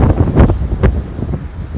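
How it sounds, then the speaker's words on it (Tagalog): Strong wind buffets close to the microphone in loud, gusty rumbles, with a few sharper blasts. "ang lakas ng hangin"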